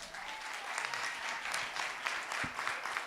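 Steady audience applause fills a singing contest hall during a children's category semi-final, a dense crackle of clapping that holds throughout at moderate loudness.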